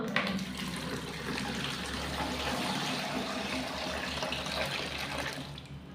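Warm water poured into a bucket, making a continuous full rushing splash that stays loud and close for several seconds before easing off at the end.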